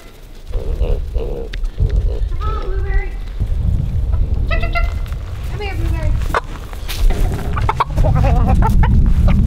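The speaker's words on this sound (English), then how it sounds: "So that's a broody hen." A broody hen clucks and grumbles in low, throaty bursts, close up over a constant rough background noise, with a person speaking near the start.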